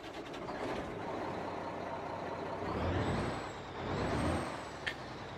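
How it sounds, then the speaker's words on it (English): A big rig firing up in a truck simulator game: a loud, broad rumble and hiss swelling as the engine catches, with a thin whine overhead and a short click near the end. "Let's fire up this truck."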